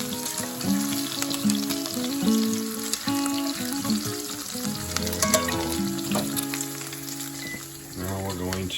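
Bacon sizzles and crackles loudly in a pan, a steady close frying hiss lasting throughout, with some clattering and stirring and faint background music over it.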